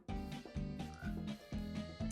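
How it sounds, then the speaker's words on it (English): Frogs croak in a Minecraft game world, a series of loud, deep rhythmic croaks repeating about every half second in close succession with no talk over them. "I have seen nothing other than a bunch of frogs."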